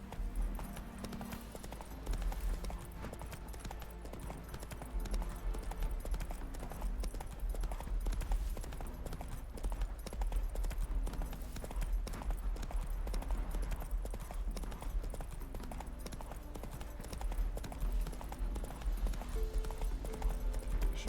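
Steady clip-clop of a horse's hooves while riding along a road in Witcher 3, a continuous trotting rhythm over game music and ambience, with no talk.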